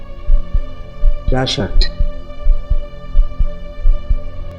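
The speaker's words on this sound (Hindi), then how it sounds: "मेरा दिल जोर से धड़कने लगा।" A steady, low, throbbing heartbeat sound effect in a horror story pulses evenly under a droning hum, with a brief spoken question over it.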